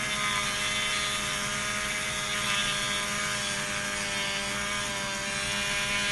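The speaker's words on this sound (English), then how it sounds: "just shaving off a little plastic" A power tool whines steadily as it shaves plastic off an N64 GameCube-style joystick connector, a constant close, loud grinding hum with no pauses and no talk.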